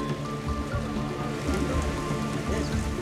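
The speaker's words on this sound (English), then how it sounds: "despite the rain" Rain falls steadily outdoors during a dog rescue and vaccination effort, a continuous patter of drops on surfaces under low background hum.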